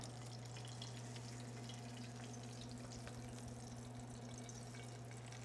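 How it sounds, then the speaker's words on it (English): Oil pours from a pan in a steady, hissing trickle, close by, over a constant low hum. "Let's go ahead and pour the oil out of it."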